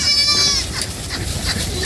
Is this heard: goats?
yes